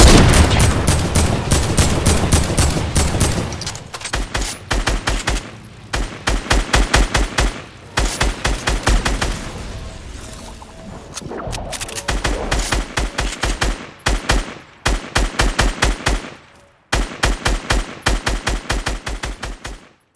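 Loud assault rifle fire from the video game Fortnite rattles out in repeated rapid bursts with short gaps, nearly filling the whole stretch.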